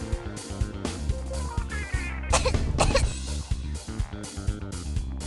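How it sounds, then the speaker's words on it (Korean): A child trapped under fallen furniture coughs repeatedly in a video game, harsh close coughs in quick bursts over a busy in-game soundtrack. "콜록이는 소리가 있는 곳을 자세히 보니 가구에 깔려 나오지 못하고 있던 어린아이가 있었다"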